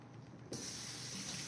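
Tap water gushes steadily from a kitchen faucet while fruit is rinsed, starting abruptly partway through as a close, continuous broadband hiss that holds even to the end.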